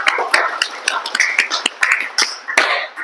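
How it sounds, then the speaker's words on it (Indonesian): A classroom of students claps for a presenting group, a brisk scatter of close, uneven handclaps lasting a few seconds with no talking. "Tepuk tangan untuk kelompok 4"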